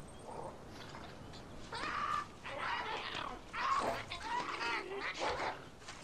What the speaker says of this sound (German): Noch so ein blödes Huhn.